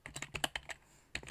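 Rapid clacking of a computer keyboard as text is typed, close and fairly quiet, in two bursts of keystrokes with a short pause between them.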